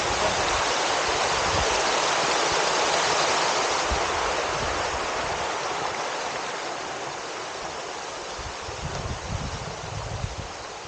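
Kelwali waterfall roars with a dense, continuous rush of falling water, loud and close throughout, easing only slightly toward the end.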